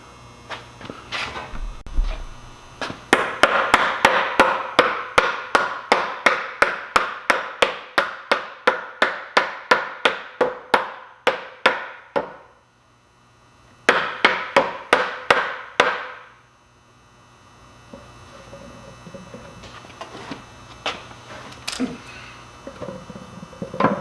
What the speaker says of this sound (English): There's a hammer when you need one, right?